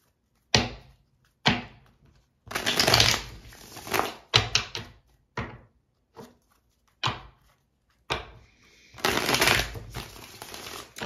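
Tarot cards being shuffled in bursts: sharp riffling flurries and short slaps separated by silences, close and crisp, with no voices.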